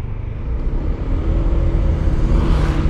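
Steady low rumble and whir of a car engine on a night road, with another car driving alongside, continuous and fairly loud throughout.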